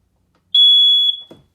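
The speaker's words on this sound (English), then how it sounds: "So we know that's a good smoke detector." A smoke detector inside a 2017 SportTrek 271 VRB RV gives one sharp, piercing, high-pitched test beep lasting about half a second, followed by a brief low thump.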